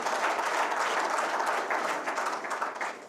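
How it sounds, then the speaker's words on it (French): An audience at an official opening session of a council applauds, a steady, moderately distant clapping that gradually thins out. "De continuer à applaudir cette fois-ci"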